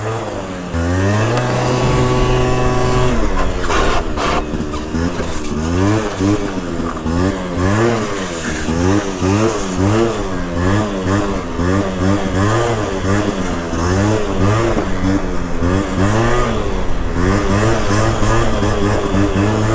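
A small 50cc two-stroke Elite scooter engine with an aftermarket exhaust pipe revs repeatedly, its buzzy exhaust note rising and falling in quick bursts, loud and close.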